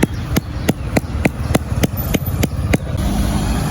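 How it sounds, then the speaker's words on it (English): A survey picket is hammered into the ground outdoors for a traverse setup: about ten sharp, evenly spaced strikes at a steady brisk rhythm, close and fairly loud over a low background rumble, then stopping. "Choose any spot in the ground and hammer your picket down to at least 1 centimeter above ground."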